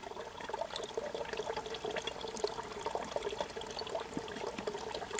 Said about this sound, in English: You can't beat a little water there.